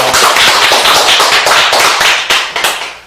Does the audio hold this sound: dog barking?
no